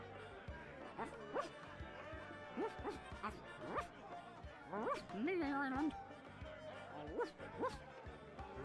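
A dog in the point-and-click adventure game The Secret of Monkey Island gives a few short, quiet barks and yips with a whimpering tone, spaced across several seconds.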